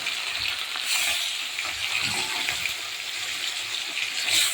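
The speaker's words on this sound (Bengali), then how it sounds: "এটা দু একটা চিংড়ি মাছও আছে, দেখো, ভাজা হোক।" Fish pieces and a few prawns sizzle in hot oil, a dense, steady, close frying hiss with soft stirring sounds, no talking.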